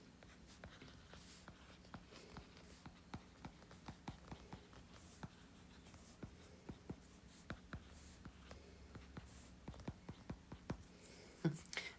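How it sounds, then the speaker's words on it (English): A pen writes on paper in quick, faint scratching strokes, an irregular run of soft taps and scrapes, close and alone. "Let me write that in purple."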